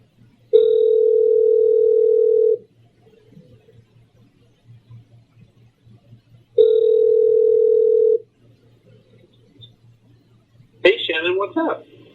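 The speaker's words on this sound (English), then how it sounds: "So that interpreter is now showing them the phone is ringing." A telephone rings during a video relay call, two long electronic ring tones separated by a pause, followed by a burst of voices at the end.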